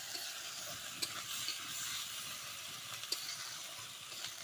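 Spices for a rui fish curry are stir-fried in a pan, giving a steady soft sizzle with occasional light clicks of a spoon against the metal, fairly quiet and close.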